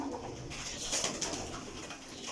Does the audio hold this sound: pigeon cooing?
yes